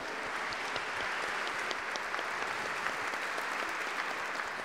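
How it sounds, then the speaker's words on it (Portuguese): Congregation applause during a Catholic homily in a church, continuous dense clapping from a large crowd, steady and fairly loud throughout with no talk over it. "Vou dar uma salva de palmas a esse homem."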